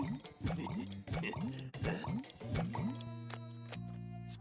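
Thick splashing and dripping of a bonito-broth brew in an anime scene, several wet plops and squishes in quick succession, close and fairly loud, with a sustained musical tone rising underneath toward the end.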